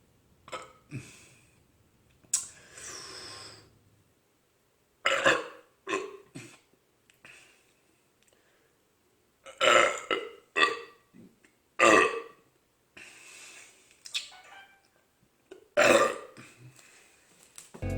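Long, deep burps slowed down into monstrous groans, about seven separate drawn-out belches spaced by silence, loud and close.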